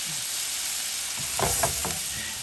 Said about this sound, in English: Deglaze it with a little bit of Chardonnay.